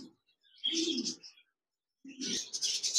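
A caged pair of Japanese budgerigars gives two short bursts of chirping, close and fairly soft, with brief silence between them and no talking.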